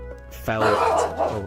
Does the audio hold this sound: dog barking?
yes